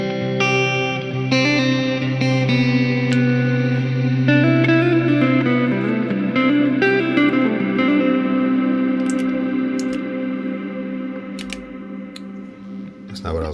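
An electric guitar runs through a Vox Delay Lab pedal, with plucked notes and chords repeating in trailing echoes over a sustained low tone, loud and close.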